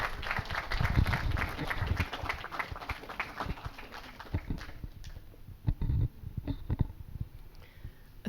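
An audience claps in a burst of applause at an evening panel event, the clapping dense and steady at first, then thinning into scattered claps before a few louder closing ones.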